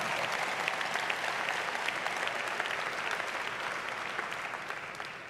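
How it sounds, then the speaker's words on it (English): A large conference crowd at a National Urban League keynote gives a warm round of applause, dense and sustained, fading slightly toward the end. "Let's give Maudine a warm round of applause."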